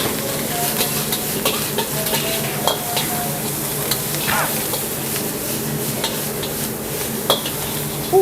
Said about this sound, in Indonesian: Kita tumis ya.